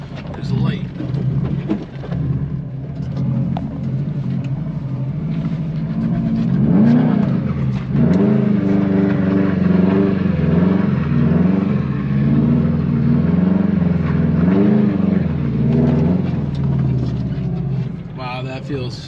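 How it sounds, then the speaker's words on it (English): Subaru WRX fitted with a solid transmission mount and welded rear differential spins donuts in a parking lot, its engine droning and revving in steady rising and falling surges, loud and close throughout. "I figured I'd do a quick little like donut or something, see what happens, see how it feels."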